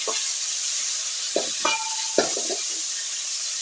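Onions and tomato sizzling steadily in a hot pan, with a few soft scraping stirs and clinks of a utensil against the pan.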